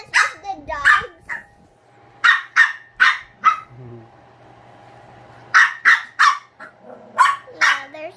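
Dogs bark in a series of sharp, close bursts, some quick doubles, with a short gap mid-clip before a fresh volley; a voice can be heard between the barks.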